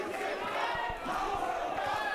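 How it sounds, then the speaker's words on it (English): A wrestling crowd at a horror-themed hardcore slam show cheers and yells loudly, a rowdy roar of many voices with scattered thumps and shouts over about two seconds. "The crowd is pleased by that one"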